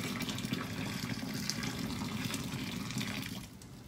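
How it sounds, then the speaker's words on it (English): Boiling water is poured from a pot straight into a kitchen sink, a steady, close rushing splash that keeps an even level for several seconds before easing slightly at the end. "So there's my boiling water right down my sink."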